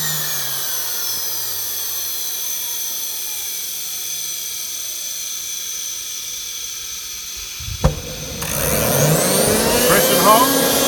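A KJ66 model jet turbine starting up: a steady high whine with falling tones runs for several seconds, then a sharp pop near the end as it lights and roars louder, with rising rushing and whistling.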